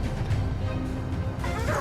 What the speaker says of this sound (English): The hunting dogs barked loudly, signaling a target.